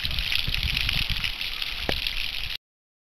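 Water gurgles and splashes down a sculpted concrete rock cascade, a close, steady trickling flow with a few brief splashes before it cuts off abruptly.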